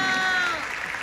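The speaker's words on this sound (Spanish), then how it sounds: "el aplauso para Larry" A live comedy show audience in Mexicali gives a short round of applause for Larry. The clapping is dense and brief, fading slightly as a voice carries over it.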